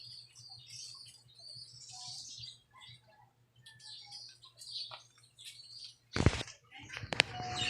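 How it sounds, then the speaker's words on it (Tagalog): Racing pigeons returning from a training flight, wings flapping in sharp bursts near the end, with chirps and faint bird calls before it over a low background hum. "Ito na, dumating na agad mga kalapatids."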